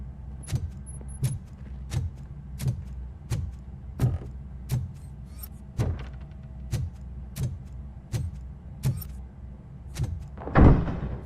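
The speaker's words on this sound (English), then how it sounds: "Now let me get that door open for you." Door opening in the game RoboCop Rogue City, heard as a steady series of regular mechanical clunks and ticks ending in a heavier thud with a rush of noise.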